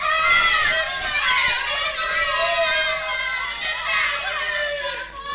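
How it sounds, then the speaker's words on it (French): Several children cry and shout at full strength in a recorded fairy-tale narration, a dense, continuous chorus of high wailing voices that runs the whole time at steady loudness with no narration over it. "les enfants se mirent à crier et à pleurer de toute leur force."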